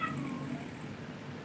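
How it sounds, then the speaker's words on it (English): A cat meows to be let out, a short plaintive call heard faint and alone in a quiet room. "The cat wants out."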